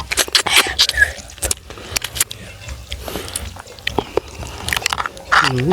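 Someone bites and sucks on blue crab legs from a spicy pounded crab salad, making close, irregular crunches, cracks and wet slurps in quick bursts, with some talk mixed in.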